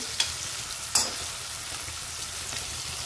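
Tomatoes sautéing in a pan until soft, a constant close sizzle with a few sharp scrapes of a spoon against the pan.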